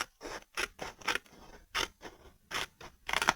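Scissors snip through card just outside a taped score line while making a sofa-shaped gift box, giving a string of sharp, close crunching cuts in an irregular rhythm with short pauses between strokes.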